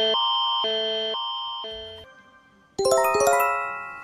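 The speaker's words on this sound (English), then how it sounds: "Canada 5/10 sounds like a ringtone" A Canadian emergency alert tone plays a repeating two-note chime pattern, then a brief pause and a louder, brighter chord-like burst of tones.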